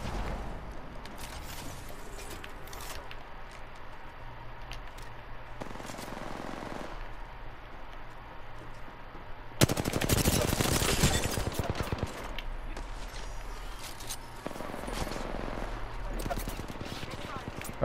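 Gunfire in an Apex Legends arena match: rattling automatic bursts run throughout, with a louder and denser barrage in the middle and steadier shooting after it, over a low rumble of game noise.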